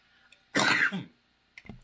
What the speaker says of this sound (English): Just fighting a cough here